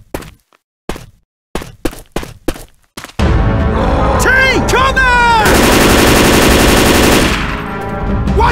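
Rifle gunfire from Left 4 Dead 2: a string of sharp separate shots, then a loud continuous burst of rapid fire mixed with shouting and gliding tonal game sounds, close and dominant.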